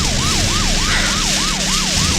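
Police patrol car siren wailing loud and close in a steady, repeating rising-and-falling cycle, with continuous vehicle rumble underneath during a chase.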